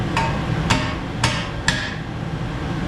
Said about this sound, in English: you can actually hit up on this with like 3-pound sledge or just a regular old hammer